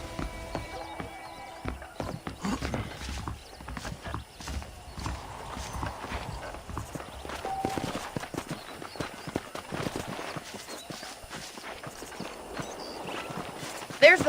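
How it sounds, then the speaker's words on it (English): In the Red Dead Redemption video game, saddled horses clip-clop steadily along at a walk, hooves close and continuous with an occasional whinny, while a character talks over them. "The horses are saddled up over here."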